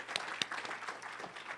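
Scattered audience applause at a university history lecture, a brief, light round of clapping with a couple of sharper individual claps near the start, fairly quiet and distant.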